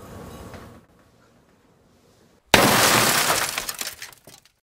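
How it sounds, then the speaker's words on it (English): A 41-inch Samsung flat screen TV is smashed, following a brief rumble and near silence with a sudden loud crash of shattering glass and debris that rattles and fades over a couple of seconds. "Today we're going to be smashing this 41-inch Samsung flat screen TV."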